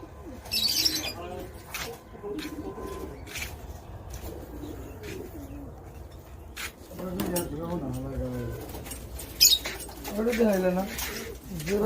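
Pigeons kept at a pigeon farm coo softly off and on through nearly twelve seconds, low and close, mostly under steady conversation from people nearby.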